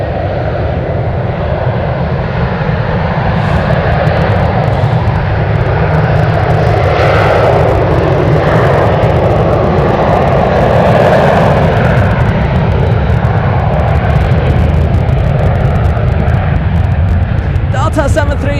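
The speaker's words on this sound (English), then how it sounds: "737 taking off on runway 1 right" A Delta Boeing 737 takes off from runway 1 right at San Francisco airport, its loud, continuous jet roar swelling and holding steady, with some talk over it.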